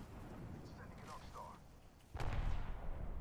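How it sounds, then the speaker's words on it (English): Muffled gunfire from a shooter video game erupts as a low, rumbling burst late on, faint and partly under people talking. "Toki, we're getting shot at."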